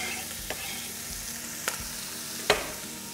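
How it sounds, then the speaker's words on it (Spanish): Onion browning in a frying pan gives a steady soft sizzle, with a few sharp clinks and scrapes of stirring and no talking. "Normalmente tenemos ahí la cebolla y la vamos dorando."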